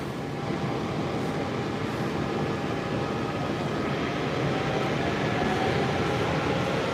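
A Silver Line metro train bound for Wheeling, Reston East runs with a steady broadband rumble and hum inside the car, constant and fairly loud throughout, with no talk.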